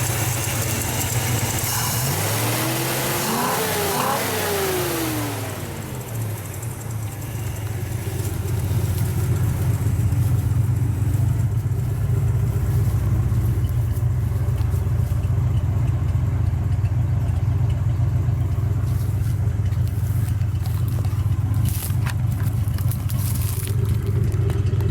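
A modified car engine idles loudly after an opening rev that rises and falls, settling into a steady, deep, continuous idle with a running rumble throughout; no voices.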